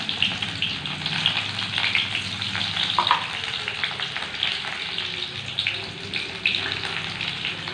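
Three small shallots, finely cut, frying in hot oil in a pan for Malabar sambar, a continuous close sizzle with crackling spits and occasional stirring scrapes throughout.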